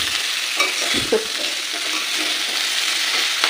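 Eggplant, pumpkin and greens are stirred in a small, crowded wok, with a continuous hiss of frying beneath a few sharp scrapes and knocks of the spatula against the pan.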